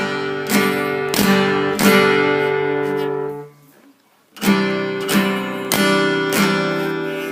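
Acoustic guitar chords strummed with a pick in a down, down, up, down pattern, played up close. Bright, steady strokes repeat in two bursts separated by a short pause, with no talking.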